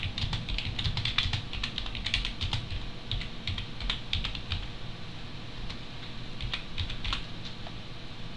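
Steady typing on a computer keyboard while entering a document title and description in a members area, a continuous run of close, quick key clicks with uneven rhythm and faint background hum.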